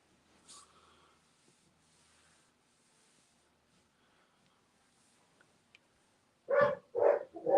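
A dog barks three or four times in quick succession, loud and close, after a long stretch of near silence with faint background sounds.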